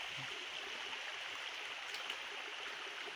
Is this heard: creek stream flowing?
yes